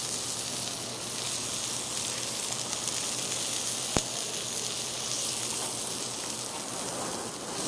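Wahoo fish skin searing in a hot pan at a farmers market stall, a steady, dense sizzle holding close and even throughout with one brief sharp tick midway and no talking.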